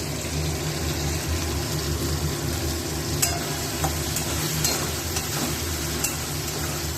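Fish balls sizzle in a hot chilli fish sauce while being stirred, a dense steady bubbling fry with a low rumble beneath and a few sharp clicks of the utensil, close and without voices.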